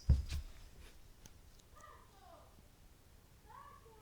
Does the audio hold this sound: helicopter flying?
no